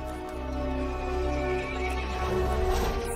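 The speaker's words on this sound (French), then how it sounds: "Le cheval se mit en colère et appela les autres monstres." A horse whinnies in a long, loud, trembling neigh close by, with faint hoof clopping in the background and no voices.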